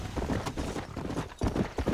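Horse hooves galloping in the Red Dead Redemption video game, a steady rapid clip-clop rhythm running throughout, fairly loud and close, with no talk over it.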